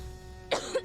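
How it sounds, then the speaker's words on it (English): A small, light cough from a young person, two brief bursts close to the mic over a faint steady hum. "Relax, it was just a little cough"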